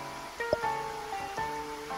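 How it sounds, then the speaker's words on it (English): Rain falling in the underwater adventure video game Dave the Diver, a soft, steady hiss of drops running continuously beneath gentle game music tones. "It's raining, which is probably a Tuna day."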